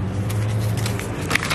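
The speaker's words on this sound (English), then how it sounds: "right now I'm taking the Uber to the tint shop" Inside an Uber car on the road, a steady low engine and road hum fills the cabin, with faint clicks and rustles on top and no talking.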